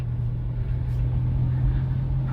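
A car driving steadily in third gear during a driving lesson, giving a continuous low engine hum and road rumble, fairly loud and even throughout with no talk.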